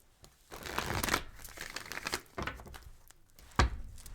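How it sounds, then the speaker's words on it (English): A deck of tarot cards is shuffled close by in papery rustling bursts, with crinkly friction between them and a sharp tap near the end, and no one speaks. "I need to shuffle."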